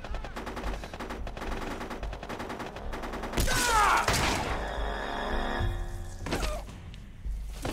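Unsuppressed gunfire in the GameCube-era stealth game Metal Gear Solid: The Twin Snakes rattles off in rapid automatic bursts, followed by a loud shattering crash and a few heavy thuds, all game audio with no voices.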